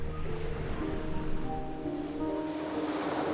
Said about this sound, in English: a pleasant, cool sea breeze blows in from the northern oceans, stirring up fine sand grains and gently breaking waves